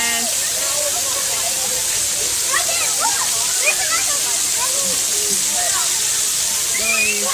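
Water sprays and splashes at an outdoor splash pad in a constant hissing rush, with children's high voices and chirpy shouts scattered over it.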